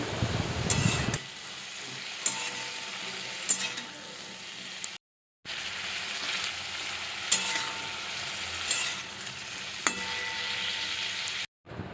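Bitter gourd, potatoes and pumpkin fry in a pan with a steady, close sizzle. Sharp utensil scrapes and clicks come every couple of seconds, and a brief silent gap breaks the sound midway.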